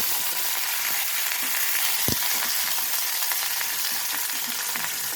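Drumstick pieces and brinjal frying in oil, a steady dense sizzle running the whole time with a single sharp knock partway through, no voices.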